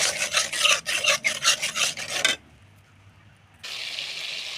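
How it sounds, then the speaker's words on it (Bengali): A utensil scrapes and stirs fish curry masala with salt in a pan, a series of close rhythmic rasping strokes that stop abruptly, leaving a short near-silent gap before a softer steady hiss resumes. "নুন দিয়ে দিলাম, হালকা হালকা করে নাড়তে থাকবো।"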